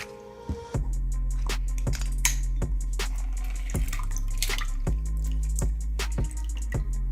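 Two fresh limes squeezed by hand for a cucumber, ginger and lime juice, the juice dripping into the cucumber juice in scattered wet drips and squelches over a steady low hum, no voices.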